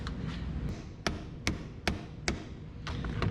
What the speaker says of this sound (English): let's get us a wrench and actually tighten down our connections